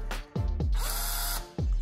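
Power drill boring a hole through an Old Town kayak hull, in several short bursts with brief pauses between them, loud and close with a whining motor pitch.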